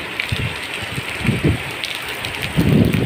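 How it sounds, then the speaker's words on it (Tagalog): Steady heavy rain pours down, a dense wash of noise with low thumping bursts, as if drops pound a nearby surface. "pero ulan yan, malakas"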